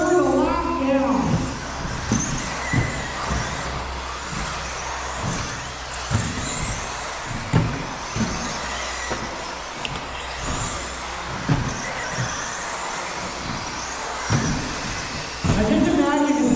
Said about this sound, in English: Walter's car puts up short on the big tabletop, giving John some breathing room